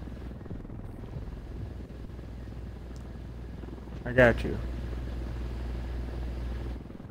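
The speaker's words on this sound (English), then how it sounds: "We might need a rocket launcher for helicopter." A helicopter in a video game drones steadily throughout, with a brief louder burst near the middle, under a voice talking briefly.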